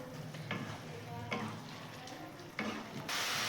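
Lote fish (Bombay duck) jhuri is stir-fried in a pan until its released water cooks off, with a quiet steady sizzle broken by a few scraping spatula strokes. A louder hiss takes over at the end.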